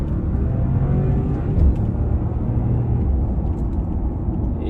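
A 2022 Bentley Bentayga 4.0 V8 Azure EWB First Edition, a 542-horsepower luxury SUV, runs with a steady, full low rumble throughout and a brief swell in the middle.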